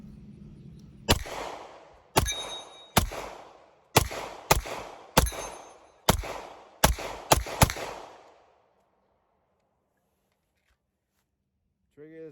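A Glock Gen 3-4 pistol with a Timney Alpha Competition trigger firing 115 grain 9mm rounds: nine sharp, loud shots in an uneven string that speeds up toward the end, each ringing briefly, then quiet.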